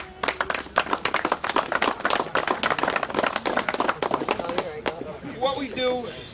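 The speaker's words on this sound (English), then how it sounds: "So I'd really like to give you guys a round of applause." Audience applause at an outdoor police K-9 demonstration following a golf tournament, a dense burst of close hand clapping that tapers off, with a voice speaking near the end.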